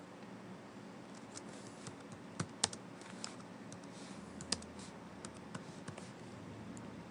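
Quiet, irregular clicking of keys typed on a computer keyboard while entering text, with sparse sharper taps standing out against a faint background hiss.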